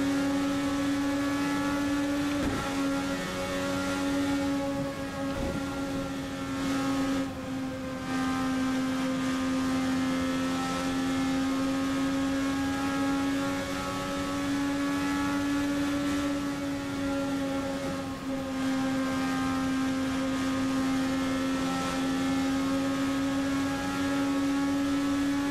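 An IndyCar in the racing game Assetto Corsa drones at high revs with a loud, steady, buzzing engine note that dips briefly on gear changes or lifts and then climbs again, running continuously with no talk.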